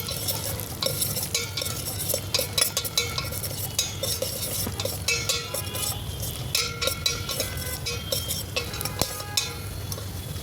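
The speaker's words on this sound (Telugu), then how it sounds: "కిడ్నీస్ కూడా వేసి ఫ్రై చేసుకుంటానండి జీడిపప్పు బాదం పప్పు ఫ్రై అయిన తర్వాత" Cashews, almonds and raisins frying in a pan for a festive sweet, with steady sizzling under repeated clinking scrapes of a spoon stirring the nuts, close and fairly loud throughout.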